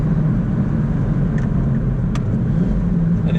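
A Lamborghini engine drones loud and close from inside the cabin, a steady low rumble with slight swells and a couple of brief clicks, no clear distinct downshift blips.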